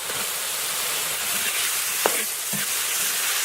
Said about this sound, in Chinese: 猪肉炒一会儿，下入青红蓝色洋芋馍馍